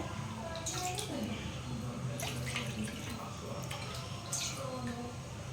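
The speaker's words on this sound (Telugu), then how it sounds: "ఏ కప్తో అయితే రవ్వ తీసుకున్నామో అదే కప్తో 3 కప్పులు వాటర్ పోసుకోవాలి." Water poured from a cup into a pot on the stove for cooking coarse semolina for motichur laddu, a steady, close splashing pour that runs continuously without pause.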